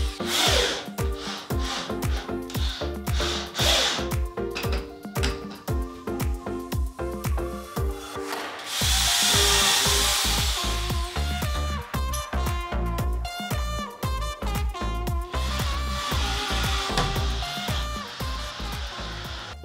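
A power drill drives screws to mount pull-up bar brackets on a wall, giving a loud, close, continuous whirring grind with rhythmic pulses and a brief burst of higher-pitched spinning midway.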